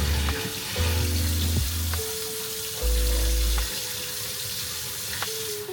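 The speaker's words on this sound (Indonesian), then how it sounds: "Kita buang airnya." Water poured off soaked Sembada hybrid rice seeds, a continuous close splashing, trickling hiss with low hum bursts, heard alone without talk.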